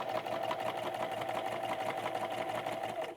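A sewing machine stitches a quilted wall hanging at a steady fast rhythm, close up and continuous with no voices.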